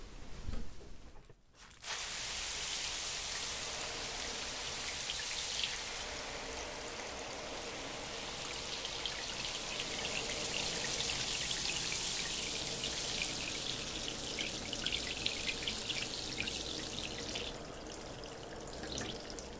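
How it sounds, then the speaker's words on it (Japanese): Shower water runs steadily in a bathroom for a pre-rinse during a bath roleplay, a continuous close hiss of spray and splashing that starts after a brief pause and carries on unbroken with no talking. "シャワーで予洗いをいたしましょうね。"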